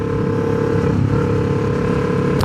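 A 2018 Kawasaki Ninja 650 motorcycle engine droning steadily while riding, mixed with wind rush, close and continuous with no talk.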